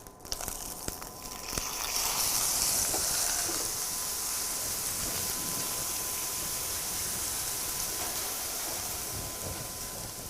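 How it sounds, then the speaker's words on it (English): Pot stickers steaming and sizzling in a pan after water is added, a steady bright hiss rising after a few sharp clicks at the start, then holding at a constant close, moderate level. "if the pan is too dry, you add a little bit more water, because that helps it steam."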